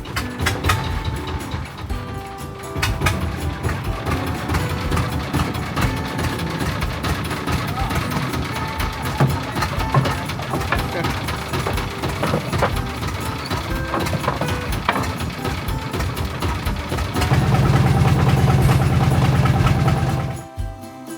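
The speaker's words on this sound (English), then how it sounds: "start the engine, giving it a few solid pulls before it roared into life" A wooden fishing boat engine chugs and rumbles steadily throughout, loud and close, with a rougher, heavier surge near the end before it cuts off.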